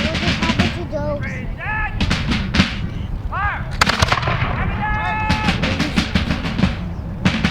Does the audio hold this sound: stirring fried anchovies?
no